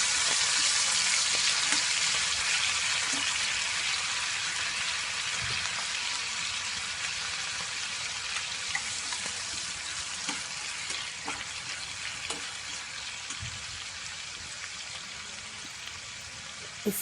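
Tomatoes frying in a pan for tomato thokku, a steady dense sizzle with crackling pops running throughout, close and fairly loud, slowly easing a little toward the end, with no talking.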